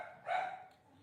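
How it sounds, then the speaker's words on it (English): A pet dog gives a single short bark from a nearby room, sharp and moderately loud against quiet surroundings, with no talking. "Oh, that's my dog barking."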